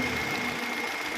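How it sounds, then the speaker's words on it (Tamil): A Hyundai i20 engine running steadily after an engine refit, a continuous even idle hum with a faint ticking texture, close and alone with no voices. "வண்டி ஸ்டார்ட் பண்ணி வண்டி ஓடிட்டுருக்குங்க"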